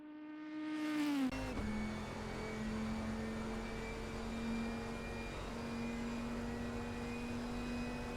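A Dodge Viper race car revs hard in a racing game, with a rising engine whine that drops sharply at a gear change and then holds a steady, droning pitch as the car keeps accelerating.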